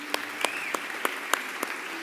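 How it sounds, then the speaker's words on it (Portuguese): A church congregation claps in praise during a sermon, heard as a handful of sharp, evenly spaced claps about a third of a second apart over a quiet room with a faint sustained tone. "Você pode aplaudir mais uma vez Jesus Cristo?"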